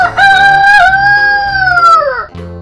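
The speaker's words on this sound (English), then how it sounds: "Rooster." One loud, close rooster crow, a drawn-out cock-a-doodle-doo that falls off at the end, over soft background music.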